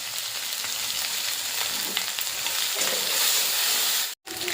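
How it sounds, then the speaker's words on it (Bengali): Spices and asafoetida fry in a pan for a cauliflower kachori filling while being stirred: a loud, continuous close sizzling hiss with light scraping, cutting out briefly just before the end. "হিং দিয়ে একটু নাড়াচাড়া করে নিলাম"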